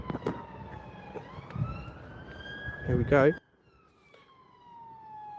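A police van siren wails, sweeping up and down in the distance while people talk nearby, the sound continuing faintly after the voices stop.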